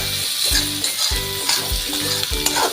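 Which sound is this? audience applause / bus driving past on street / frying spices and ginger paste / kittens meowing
frying spices and ginger paste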